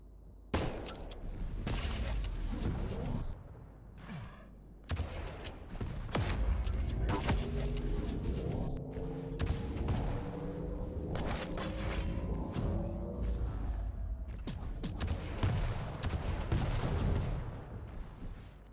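Rocket launcher fire in a Quake match: repeated booming blasts and explosions in fast, dense bursts, with a weapon hum underneath, fairly quiet overall.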